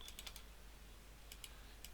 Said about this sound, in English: And so in here we'll type